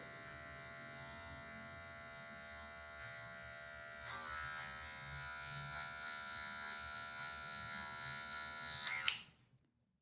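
Electric hair clippers buzz steadily and close while cutting a low fade, a constant bright electric hum that shifts slightly in tone partway through and cuts off abruptly near the end.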